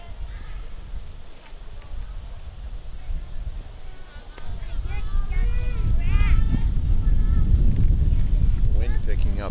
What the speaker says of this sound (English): Wind picking up now.